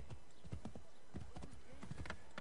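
Rapid clip-clop of a horse's hooves galloping in Assassin's Creed 3, a steady drumming rhythm of hoofbeats close by, with a short whinny mixed in.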